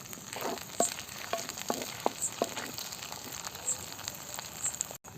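Ground ginger, garlic and tomato paste with a little onion fries quietly in a pan, a soft continuous sizzle broken by occasional light clicks and stirring scrapes, fairly faint and without talk.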